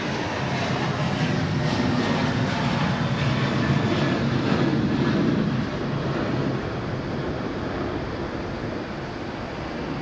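A Malaysia Airlines A330 lands at Sydney Airport with a loud, continuous roar of engine and rushing air that holds steady for the whole ten seconds, easing slightly toward the end.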